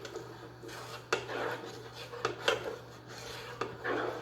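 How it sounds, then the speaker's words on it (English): Sauce for Thai-style mango sticky rice stirred in a pan with a utensil: soft scraping and rubbing, with intermittent light clicks and taps against the pan, close and fairly quiet. "I'm just going to stir it around just a little bit here"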